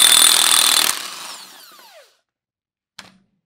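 A power tool with a 1.5 inch socket spins a nut off the end of a shaft during a Storm SS, Cyclone or Hurricane cylinder rebuild: a loud buzzing burst that winds down over a second, then a brief clink of the part.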